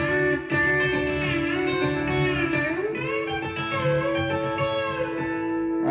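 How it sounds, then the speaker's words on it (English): A B-bender guitar slides from a D up to a high octave A, sustained ringing notes that swell and glide, close and clear, with no talking. "So when I go from the D to the high octave A, it can sound like this"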